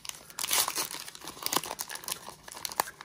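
A 2021 Topps Gypsy Queen trading card pack is torn and crinkled open up close, a run of sharp irregular foil-wrapper rustles and rips with no talking.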